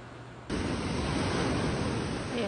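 Big ocean waves at a beach in La Union, a loud broadband roar of surf that swells in abruptly after a quieter half second and then holds steady, mixed with wind on the microphone and no talk.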